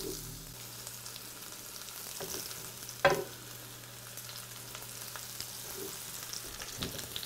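Mushrooms frying in a hot pan for a paleo mushroom soup, a soft steady sizzle with occasional stirring scrapes and one sharp clink of a utensil against the pan.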